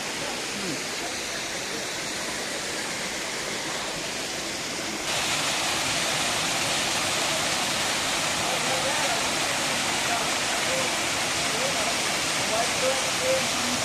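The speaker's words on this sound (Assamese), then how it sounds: "কিমান এটা ধুনীয়া এটা পৰিৱেশ আছে, পানী পৰিছে" A waterfall pours down outdoors in a steady, dense rushing roar that grows louder partway through and holds constant, with voices faintly beneath it.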